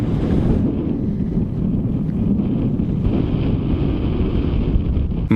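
Steady hot wind in Death Valley, USA, rushes and buffets the microphone in a continuous low rumble, loud and close, with no voices.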